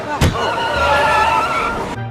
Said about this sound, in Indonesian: mobil mereka mengalami pecah ban yang membuat mobil mereka oleng